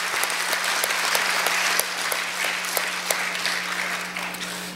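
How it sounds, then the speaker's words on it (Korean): A concert audience applauds steadily for several seconds, a dense patter of claps that thins slightly toward the end over a faint low hum. "또 와주신 모든 분들을 위해 박수 한번 하겠습니다"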